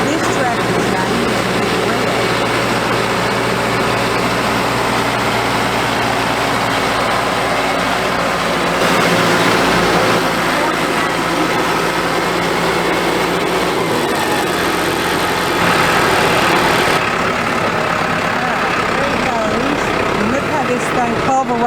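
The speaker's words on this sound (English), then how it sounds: "he has a rototiller that just pulverizes the ground" Red tractor running a rototiller through garden soil, a steady engine drone with shifting rumble and mechanical churning throughout, close and continuous, with someone talking over it.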